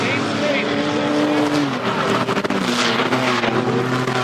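Race trucks, among them the number 88, roar around a racetrack, engines droning loudly and shifting pitch as they pass, while a commentator talks over the noise.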